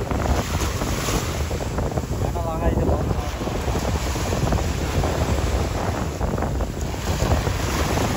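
Wind blows hard at a seashore in Singapore, a constant loud roaring rush buffeting the microphone, with waves washing beneath and faint voices now and then.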